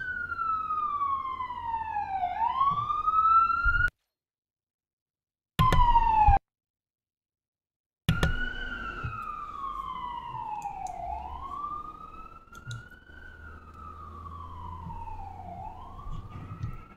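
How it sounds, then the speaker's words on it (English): Early morning sirens in Brooklyn, a rising and falling wail repeating in slow sweeps, loud and fairly near, with brief cutouts and faint traffic rumble underneath. "Those early morning Brooklyn sounds, the sirens,"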